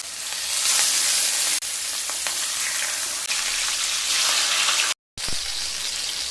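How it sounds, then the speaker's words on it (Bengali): Fish frying in hot mustard oil in a pan, a loud, steady sizzle that runs nearly unbroken with a brief cut near the end, no talking. "তেল গরম হয়ে গেলে মাছগুলো ভেজে নেব।"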